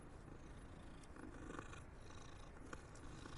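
A soft continuous purr from a creature in the video game Hogwarts Legacy, faint and low, droning steadily without pause and with no voices present.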